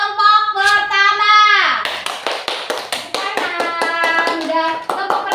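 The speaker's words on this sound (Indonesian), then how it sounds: "Kita tepuk tangan untuk kelompok pertama." A classroom of children claps for the first group, a quick rhythmic burst of many hands following a teacher's sung or drawn-out voice, with talk over the clapping.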